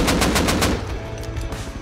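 Rapid automatic gunfire in the survival game Rust during a wipe-day raid, a loud burst of evenly spaced shots for the first half, then scattered quieter firing and clatter from further off.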